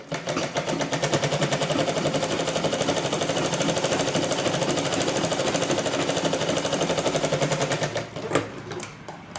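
A sewing machine runs continuously and loudly for about eight seconds while stitching a blouse, a fast, even mechanical rattle that stops near the end with a few clicks.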